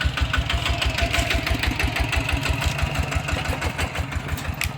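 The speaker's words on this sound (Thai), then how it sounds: "ส่วนมากก็จะเห็นรถตอกๆแบบนี้เนาะรถอีแท็กแบบนี้แหละพี่น้องแถบชนบท" A rural Lao farm tractor cart, an e-taek, runs nearby in countryside, its single-cylinder engine chugging in a steady, fast, loud putter that continues throughout without pause.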